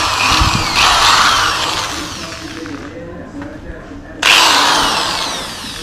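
Power drill boring a hole in a Ford Falcon, with a loud whining burst that drops away midway and then surges again near the end, close up, with voices briefly in the background.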